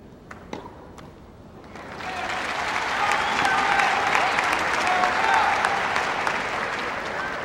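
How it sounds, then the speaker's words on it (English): A crowd at a 1978 professional team tennis match between Phoenix and San Diego bursts into loud, sustained applause after a few early claps, with a commentator's voice under the clapping. "Crowd enthusiastically behind Carrie Reed."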